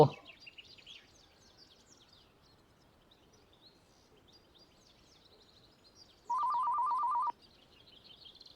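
A telephone in the video game A House for Alesa rings once in a short electronic burst of trilling tones, clear against an otherwise quiet background with faint chirps.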